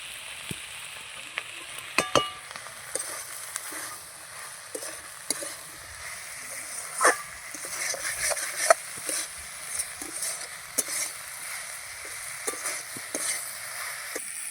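Onions for a fish curry sizzle and fry in a pan, a steady close crackle with scattered sharp pops and spatters and occasional stirring scrapes, with no voices.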